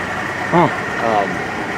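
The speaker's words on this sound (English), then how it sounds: "Waukesha diesel." A Waukesha 12-cylinder 800 kW diesel generator turning at 1,200 RPM drones steadily and loud in the background, while a voice talks briefly over it.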